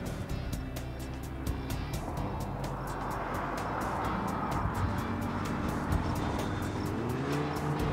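A Fiesta ST or GTI engine drones steadily at close range on a track, its pitch dropping and shifting as the car slows under heavy braking into corners before rising again.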